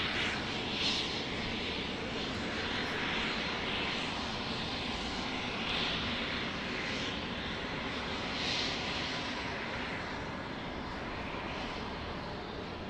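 A Southwest Airlines Boeing 737-700 jet at Dallas Love Field gives off a steady, loud, broadband engine roar that holds for the whole stretch with slight swells, heard alone without voices.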